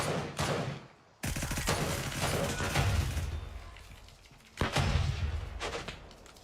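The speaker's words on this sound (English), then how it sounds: "I got grenades going off all around" Grenades go off in Gray Zone Warfare, sending heavy booming blasts with rumbling tails through the scene. A big one hits early and another lands later, all set in dense combat noise with no talking.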